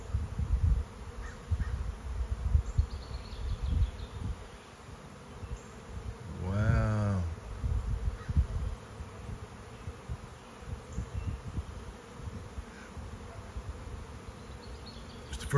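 A swarm of bees moves into a hive outdoors, giving a constant close buzzing hum with a single insect passing near the microphone partway through, over low rustling wind noise.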